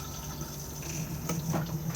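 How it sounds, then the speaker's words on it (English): A motorhome cassette toilet flushes, a steady close rush of water flowing into the bowl for a couple of seconds, with no voices. "and then push to flush on the blue button just here"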